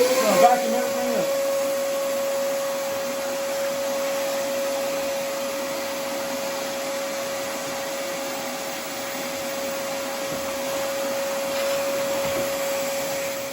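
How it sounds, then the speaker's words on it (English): A vacuum cleaner runs steadily close by, sucking up sanding dust from a model railroad layout, a constant drone with a fixed whine holding through the whole stretch and no break in the motor. "After I've got everything sanded down the way I want it, I'll vacuum everything up."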